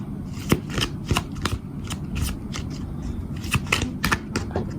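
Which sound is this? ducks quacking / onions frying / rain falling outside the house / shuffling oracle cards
shuffling oracle cards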